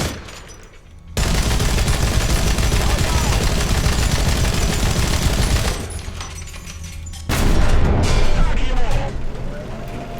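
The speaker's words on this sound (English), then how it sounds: "I love those sound effects of the shell firing. It sounds so good." Heavy machine gun fire from a tank in the video game War Thunder, a dense sustained roar of rapid shots running for several seconds, briefly easing and then resuming loudly.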